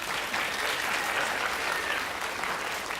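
A school audience applauds steadily for several seconds after a poetry recitation, a dense, even patter of many hands clapping with no pauses.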